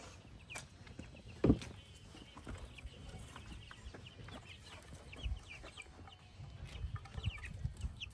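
Hens clucking softly in a yard, scattered short calls with one louder squawk, over a steady outdoor background.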